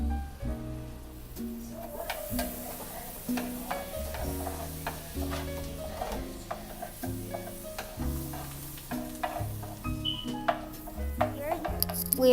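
Garlic cloves and rosemary sizzle in melted butter in a pan, a steady frying crackle under repeated rhythmic scraping and stirring.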